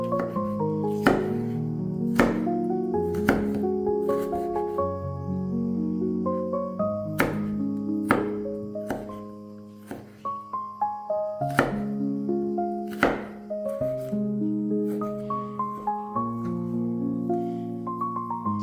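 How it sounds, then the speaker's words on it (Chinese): A knife shreds stacked carrot slices on a cutting board, sharp repeated chops landing in quick uneven bursts, close and crisp, while soft melodic music plays underneath. "再切成胡萝卜丝"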